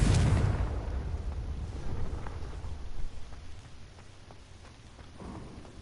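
A Confringo blasting spell goes off in Hogwarts Legacy, opening with a loud booming burst that rolls into a long rumbling decay, followed by fainter crackles and a smaller thud near the end.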